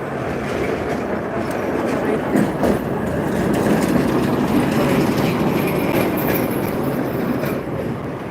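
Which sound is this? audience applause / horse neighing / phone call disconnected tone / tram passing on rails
tram passing on rails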